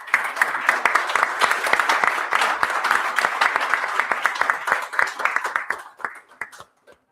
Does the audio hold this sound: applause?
yes